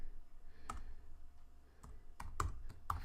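A computer keyboard is typed on in a quiet room, with scattered close key clicks in short irregular bursts and gaps between them.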